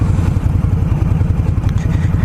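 A 2020 Indian Scout motorcycle engine while riding on the road, a loud, close, steady rumbling drone with a low throbbing pulse and no voices over it.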